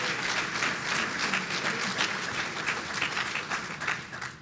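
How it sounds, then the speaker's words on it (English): Sustained applause from an audience at an electric cooperative's annual meeting and member appreciation night, a dense steady wash of many hands clapping that stays loud throughout. "Let's give them a round of applause."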